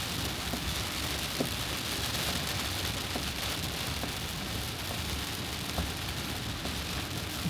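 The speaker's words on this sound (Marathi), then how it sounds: "अचानक खूप पाऊस आला, खूपच जोरात." Sudden heavy monsoon rain pours down steadily on a car during a long drive from Pune toward Karjat, a dense, unbroken hiss with scattered sharper drop hits and no speech.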